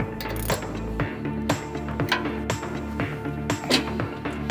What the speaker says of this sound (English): To finish, we fit the two cap nuts, which act as dust protection, and additionally secure these in place again.